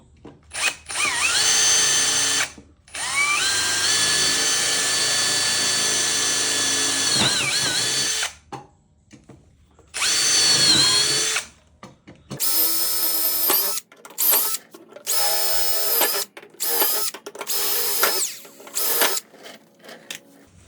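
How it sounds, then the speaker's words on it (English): A power drill with a 1/4 inch bit bores a series of holes in bursts, a few long whining runs followed by shorter choppy ones, each with rising pitch, close and loud, separated by brief silences. "with my drill, the bit size that I'm going to use is a 1/4 inch bit, and we'll go ahead and drill all 8 of these holes"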